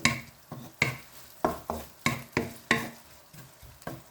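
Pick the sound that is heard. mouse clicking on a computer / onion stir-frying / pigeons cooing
onion stir-frying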